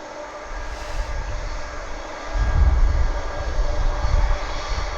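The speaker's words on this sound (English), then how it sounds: "on the approach is an A330, which is a DHL" A DHL Airbus A330 on approach to East Midlands Airport makes a loud, continuous jet engine roar with a deep rumble that swells in the second half as it passes nearby.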